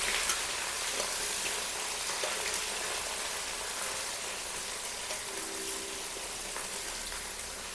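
Onions frying in hot oil with white and black cardamom for chicken curry, a steady crackling sizzle like light rain, continuous and even at moderate level, without voices.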